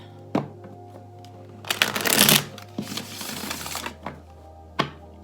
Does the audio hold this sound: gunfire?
no